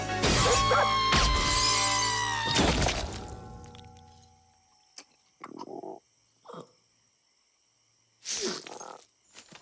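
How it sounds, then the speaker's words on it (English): A glass door smashes with a loud crash and shattering, debris tinkling and fading over several seconds, followed by a few brief thuds and scrapes in near silence. "On 3, we're gonna smash this thing through the door."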